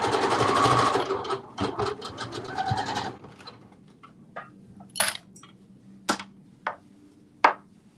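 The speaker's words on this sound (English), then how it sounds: "We're going to sew the front overlay to the back." A sewing machine runs a fast, steady burst stitching a dress's front overlay to the back at a 5/8-inch seam, then stops, followed by several sharp, spaced clicks and taps.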